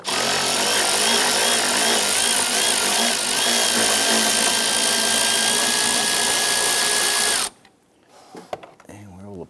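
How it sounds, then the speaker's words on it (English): A ratchet with extension and swivel socket loosens an upper back bolt during camshaft position sensor replacement on a 2011-2021 Jeep Grand Cherokee 3.6L V6, a loud continuous mechanical whir for several seconds that stops abruptly, followed by faint handling noise. "Using our extension and swivel socket, we're going to go ahead and get to this upper back bolt."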